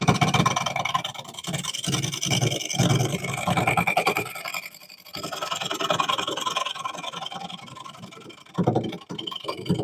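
A wooden bowl spinning on a lathe is cut with a Hurricane turning tool in a scraper-style pass, giving a continuous close rasping scrape that briefly dips and resumes, with no talking.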